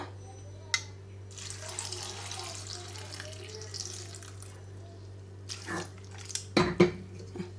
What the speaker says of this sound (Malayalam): മുങ്ങാൻ പാകത്തിന് വെള്ളം ഒഴിക്കുക.